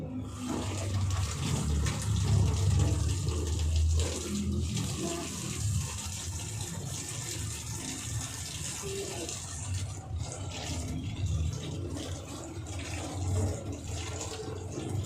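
Water runs from a tap while tomatoes and other ingredients for fish paksiw are washed, a steady gushing splash that is loudest early and continues throughout, with faint background voices.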